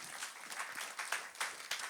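A church congregation at a worship service applauds in scattered, rippling bursts, fairly quiet and steady for a couple of seconds.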